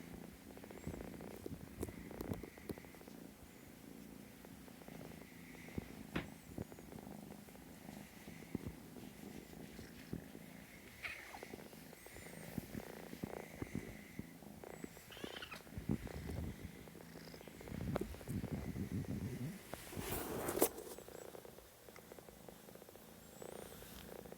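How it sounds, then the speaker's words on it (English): A cat purrs softly and continuously up close, a low rhythmic rumble with occasional faint rustling and small bumps. "Oh, you got a purr?"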